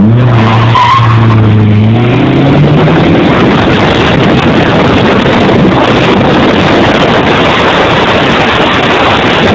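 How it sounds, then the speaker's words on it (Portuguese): A Fiat Palio and a VW Saveiro accelerate hard in a street race, engines loudly revving through rising gears at the start before giving way to a loud, continuous roar with tire skidding and wind rush. "Aí acelerou o Barnabé, tá indo."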